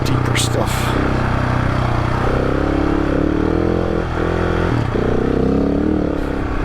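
Loaded adventure motorcycle carrying rear luggage, labouring through deep sand on a Wyoming dirt track, its engine droning steadily and loudly throughout with shifting pitch and scraping clatter.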